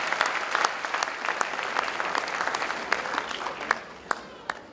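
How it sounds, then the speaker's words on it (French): An audience applauds at the closing ceremony of a film award event, with steady clapping from many hands that is fairly close and sustained, then thins out into scattered individual claps near the end. "Ça s'applaudit, ça s'applaudit."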